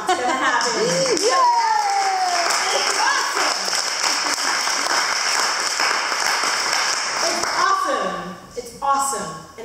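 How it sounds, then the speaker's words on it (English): Audience applause at the Texas Flow Fest 2015 instructor showcase, a sustained, dense burst of clapping and cheering with voices shouting over it, tapering near the end. "I really want to clap it up one time for every drop that has happened and every drop that's going to happen"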